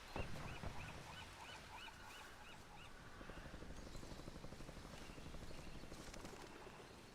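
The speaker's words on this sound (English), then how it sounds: "It's a heli." Helicopter in the Call of Duty Warzone video game, a steady rotor drone with a continuous broad rumble held at moderate level throughout, with faint bird-like chirps in the background early on.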